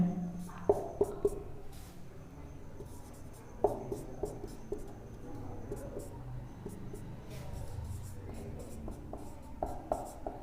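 Pen or marker writing on a board during an English grammar lesson, with intermittent scratchy strokes and taps at close range over a quiet room, no talking.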